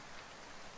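Faint, steady rain ambience in a visual novel game, a soft hiss of falling rain with no other sounds.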